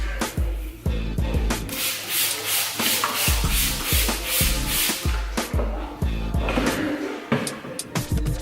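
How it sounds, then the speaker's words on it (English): Steady rhythmic rubbing as a car headlight on an Infiniti G37 is wet sanded with 1500 and 2500 grit sandpaper, back-and-forth strokes close up with occasional soft knocks. "We wet sanded with 1500 grit, 2500 grit, and then heavy cut"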